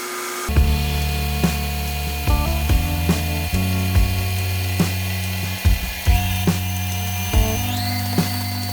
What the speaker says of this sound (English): I'm going to let this mix until there's no lumps in it.